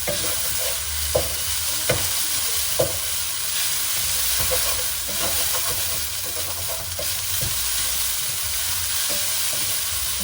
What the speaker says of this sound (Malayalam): നമുക്കിതെല്ലാം കൂടെ ഒന്ന് ഒരുമിച്ച് ഇളക്കിയെടുക്കാം.